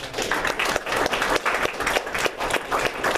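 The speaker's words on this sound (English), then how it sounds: "round of applause for Dr." An audience applauding a speaker at a monthly political meeting, with dense, steady clapping throughout at close range and no voices over it.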